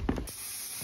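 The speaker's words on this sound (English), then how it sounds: "Spraying fucking fruit flies." Fly killer aerosol spray aimed at fruit flies indoors gives a short, close hiss for about a quarter second before fading into faint background noise.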